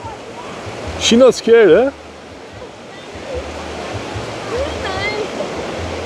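Steady broadband wash of ocean surf on a beach at Hua Hin, Thailand, running continuously in the background while someone talks briefly near the start and a distant voice drifts in later.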